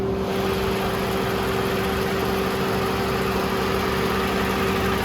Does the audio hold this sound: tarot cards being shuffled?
no